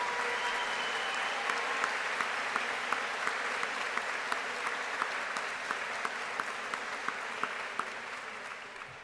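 Steady applause from a large crowd at a high school graduation ceremony, sustained and fairly distant, with the dense patter of many hands continuing without a break throughout.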